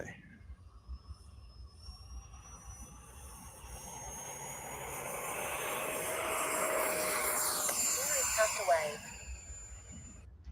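A small RC model jet flies on modest power, its turbine whine and broad rushing roar building steadily to a close pass, then easing slightly as it moves away.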